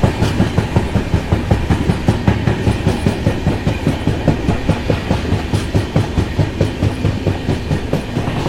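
A passenger train runs along a single-line railway section on the Bengaluru to Hyderabad route, its wheels beating a steady, close clickety-clack rhythm over the rail joints with no talk throughout.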